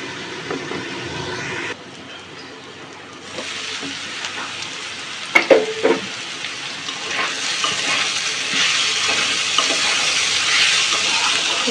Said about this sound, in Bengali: হালকা আঁচে আস্তে আস্তে নেড়ে নেড়ে ভেজে নিতে হবে ঢাকনা দিয়ে দিয়ে